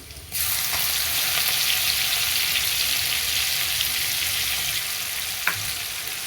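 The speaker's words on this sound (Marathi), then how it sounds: "तेल गरम झाले आता लसूण टाकून घेऊया ह्याच्यात" Garlic hits hot oil in a pan and sizzles loudly and steadily for several seconds while being stirred, with one small clink near the end; no talking.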